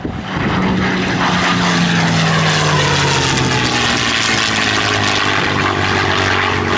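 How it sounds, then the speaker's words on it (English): A P-51 Mustang warbird roars through an attack run at an airshow, its loud piston engine and propeller growl swelling as it passes close, with a falling pitch as it sweeps by. "There's the P-51 on the scene attack. Watch and listen."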